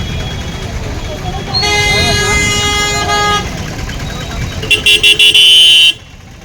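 Busy road traffic near the Kondagattu hill temple, with engines rumbling and several vehicle horns honking, including a run of short repeated toots near the end, close by.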